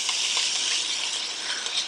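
Steak tips spread out searing in a hot pan, a steady, soft hiss of sizzling fat and juices with faint crackles, no voices.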